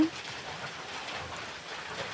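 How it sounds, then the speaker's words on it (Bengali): Rain falls steadily in a continuous soft hiss, fairly close, with no other distinct sounds over it. "আমাদের বাড়ির এখানে বৃষ্টি হচ্ছে,"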